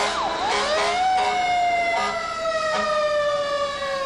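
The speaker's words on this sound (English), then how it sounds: "Another night, another siren in south central Los Angeles." A wailing emergency siren at night in South Central Los Angeles rises and sweeps in pitch, loud and fairly near, with no talking over it.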